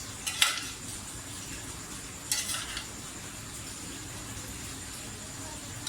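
A metal spoon scrapes and clinks against a pot while chicken degi biryani is served out, two short sharp bursts of clatter near the start and middle over a quiet room hum.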